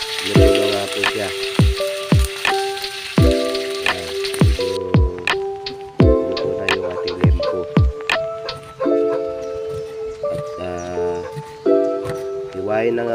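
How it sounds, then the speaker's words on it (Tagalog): Pork belly (liempo) frying in a pan, sizzling steadily while a utensil gives repeated sharp scraping clacks and stirring knocks throughout. "Piprito po natin yung lempo po ng baboy para mas lalo masarap yung lulutuin natin pinakbet mamaya."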